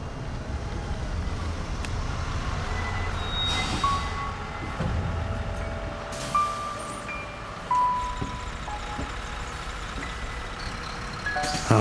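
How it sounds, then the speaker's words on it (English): A city bus pulls away along a busy roadway, with a low engine rumble, air brake hisses, faint beeps and passing traffic around it, moderately distant. "As the bus pulls away, Melissa smiles at me through the window."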